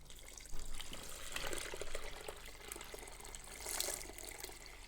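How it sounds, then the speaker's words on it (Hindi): Water poured from a jug into a cooking pot holding soaked moong dal, onion and spices, a soft continuous splashing trickle that swells briefly near the end, faint and close, with no one talking. "अब हम जग की मदद से इसमें पानी डालेंगे।"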